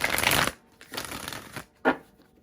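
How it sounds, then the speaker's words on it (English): Oracle cards shuffled by hand, a long riffling burst followed by a few shorter bursts of cards slapping and sliding together, close and fairly loud with no talking. "I'm going to use my energy oracle deck for the basis of this reading"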